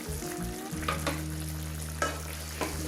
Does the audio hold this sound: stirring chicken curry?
yes